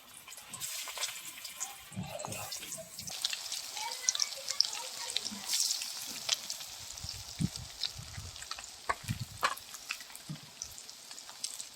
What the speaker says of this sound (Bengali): এই কোপ্তাগুলো আমি দিয়ে দেবো তেলের মধ্যে